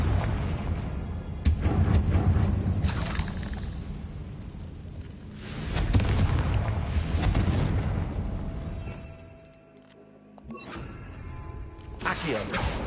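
Confringo blasting spell explosions in a Harry Potter-style video game, booming bursts around 1.5 s and 6 s with long rumbling tails, a quieter lull near 10 s, then another rising burst, loud and close with no talk.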